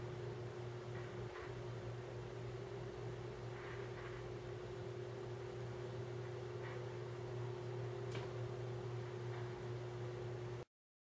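An electric fan runs indoors during a makeup session, a steady low hum with a constant tonal whine, faint and continuous under a few small handling clicks, with no voices.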